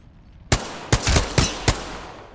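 G7 Scout rifle shots in Apex Legends, four or five sharp, loud cracks spaced unevenly over a couple of seconds, each with a short ringing tail, and no voices.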